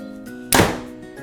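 A single sharp thunk of a Mathews Safari bow releasing an arrow, one loud close impact-like snap with a short decaying tail, otherwise quiet.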